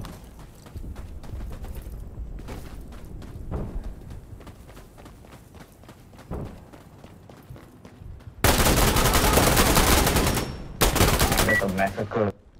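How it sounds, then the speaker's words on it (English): Chemical mortar strike in Insurgency: Sandstorm, with scattered gunfire and footsteps before two loud, dense, sustained blasts of explosive noise that fill the last few seconds. "we need a chemical mortar strike on this location"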